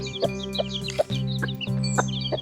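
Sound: hen clucking while trying to feed chicks

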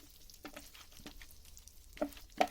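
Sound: frying chopped pieces in olive oil

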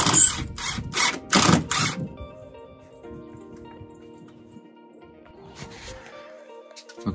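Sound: driving 3-inch drywall screws to mount TV bracket

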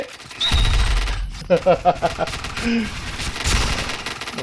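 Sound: gunfire in a video game

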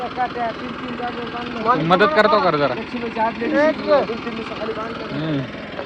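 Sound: tractor engine running while pulling out of mud

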